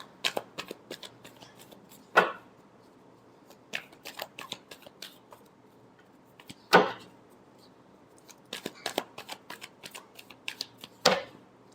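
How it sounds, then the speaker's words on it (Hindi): Tarot cards are riffled and shuffled up close in quick, fluttering bursts, with a few sharper snaps of the deck at intervals. "Last shuffle."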